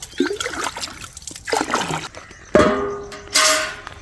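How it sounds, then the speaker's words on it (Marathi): Cold water splashes and pours during an open-air village bath with no bathroom, coming in close, uneven bursts with two louder pours near the end. "इथून थंड पाणी घ्यायचं, इथं थंड पाणी भरून ठेवलेलं राहतं हे आंघोळ घ्यायसाठी."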